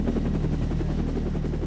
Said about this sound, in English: in the skies above is the Met Chopper.